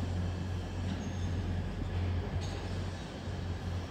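Tram pulling into a Nottingham tram stop, a steady low rumble of wheels and motor with a faint squeal, fairly close and continuous throughout.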